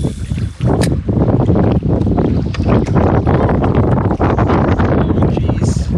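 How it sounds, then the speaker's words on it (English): Strong wind gusts batter the microphone along a lake shoreline during a wilderness camping trip with a dog, loud rumbling buffets that surge and drop repeatedly, with brief breaks between blasts. "This makes me wanna get out of the wind as soon as those gusts come along."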